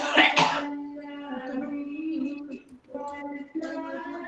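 A person coughs and clears their throat close to the microphone, with a short harsh burst at the start followed by a drawn-out voiced rasp and a second burst near the end.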